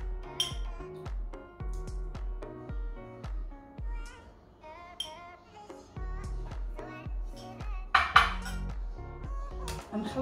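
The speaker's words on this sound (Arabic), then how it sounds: "نخلطو هاد لاماغيناد مزيان" A spoon knocks and clinks against a bowl while a marinade of lemon juice, water and soy sauce is stirred, giving irregular close metallic taps and rings with faint resonant tones between them.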